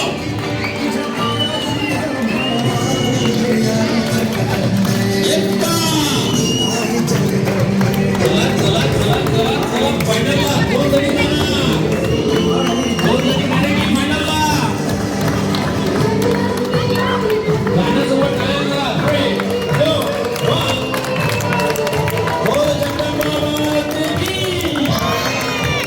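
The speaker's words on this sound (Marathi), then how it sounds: "मेक सम नॉइज म्हटल्यावर आवाज करायचा" A crowd at a Ganesh mandal home-minister competition makes noise and claps continuously, a dense, loud roar of voices and hand claps sustained throughout with music underneath.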